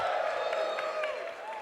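A live show audience cheering and whooping, a steady, sustained wash of many voices with some clapping, filling the space without pause.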